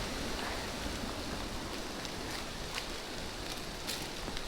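Rain during a windy storm over avocado trees in a Mexican orchard: a faint, steady hiss of falling rain with light rustling and scattered drops throughout, with no voices.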